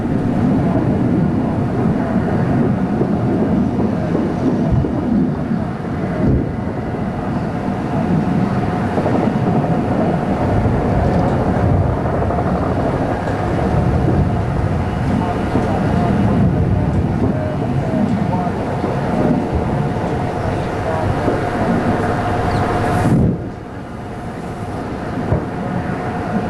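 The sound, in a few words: sounds of combat in Baghdad during Iraq War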